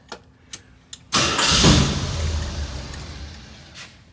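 A Jeep CJ-7 six-cylinder with stainless exhaust cranks after a few clicks and catches, then settles into a loud, rough idle close by.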